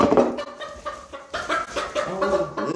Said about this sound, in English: He's gotten such a deep little cluck now.